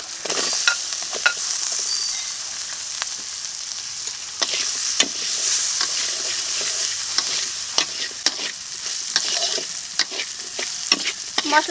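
Potatoes frying with turmeric, salt and spices in a hot pan, a loud, steady sizzle with frequent scraping stirs of a spoon and no voices.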